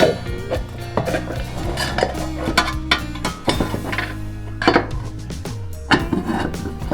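A stirring paddle accessory being fitted into a Gilli air fryer, with repeated clinks, knocks and plasticky clatters of parts handled and pushed into place, close and fairly busy throughout.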